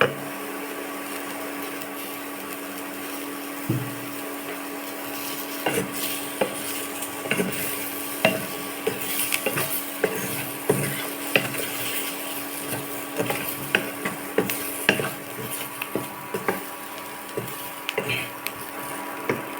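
Potatoes frying in a pan for a potato fry served with dal rasam: a continuous sizzling hiss broken by frequent scraping clicks from stirring, close and fairly loud throughout.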